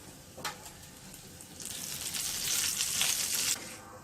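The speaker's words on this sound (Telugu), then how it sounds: "ఇవి వేగిన తర్వాత కరివేపాకును వేసుకొని వేయించుకోవాలి" Curry leaves crackle and sizzle in hot oil for Indian gooseberry pickle, with a short splutter early on and then a louder, steady frying hiss that swells mid-clip before fading near the end; no voices.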